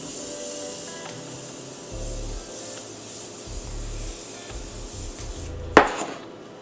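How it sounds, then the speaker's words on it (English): A single short, sharp hiss of makeup setting spray is sprayed onto a face near the end, close and brief, after quiet low rustling and handling sounds. "So I'm gonna spray my face."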